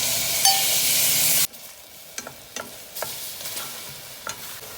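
Pork hitting hot oil in a pan for yellow curry, a loud steady sizzle that cuts off sharply, followed by quieter frying with scattered clicks of stirring.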